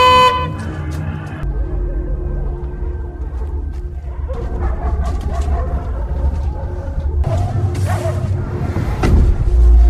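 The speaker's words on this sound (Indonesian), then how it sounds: "Jake malah tidak sengaja membunyikan klakson mobil dan itu sangatlah fatal" A car horn sounds by accident in one short, loud blast at the start, then gives way to a busy scene of rumbling noise, dog-like barks and scattered knocks.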